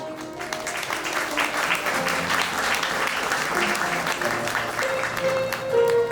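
Wedding guests in a Yeongdeungpo wedding hall clap together in steady, sustained applause throughout, with faint voices and tones underneath.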